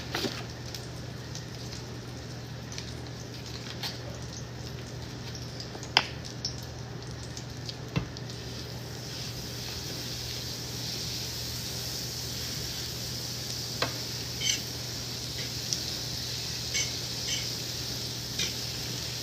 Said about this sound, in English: You can cook your pancakes in butter or oil, doesn't matter.